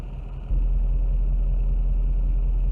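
A Nissan Titan XD diesel pickup with a straight pipe and a no-emissions delete tune rumbles deeply and loudly up close. It starts quietly, then jumps into a steady heavy drone within half a second.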